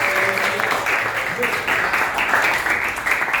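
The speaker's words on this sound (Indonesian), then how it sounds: "beri tepuk tangan buat Jessica." Applause from a classroom group during a guidance session, a brisk, dense patter of clapping that holds steady throughout at fairly close range, with some voices mixed in.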